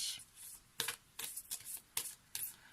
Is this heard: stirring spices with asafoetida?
no